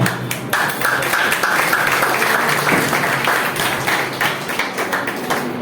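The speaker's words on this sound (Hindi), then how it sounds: "आप अपने लिए जोरदार ताली जरूर बजाएं।" An audience at an Ayurveda company event bursts into loud, sustained applause, many hands clapping densely and evenly throughout.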